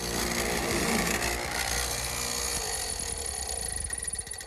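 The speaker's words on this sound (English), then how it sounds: "So I'm using a chisel to hand fit this half lap for the curve section." Chisel hand-fitting a curved wooden half lap joint for a garden gate, a dense continuous scraping and rasping of steel on wood, loud and close throughout.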